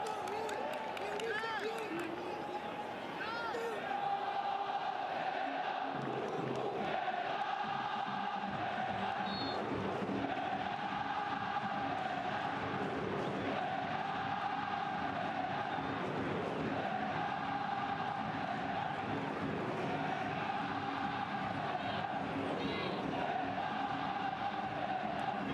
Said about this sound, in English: that noise that has been generated by this crowd all night is finally paid